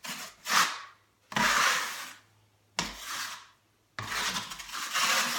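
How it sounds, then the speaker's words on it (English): A putty knife wipes joint compound across a faux brick wall in four broad rasping strokes separated by short pauses, close and fairly loud with no talking. "I'm not adding a lot of pressure, just enough to wipe it over. and get it into my grooves."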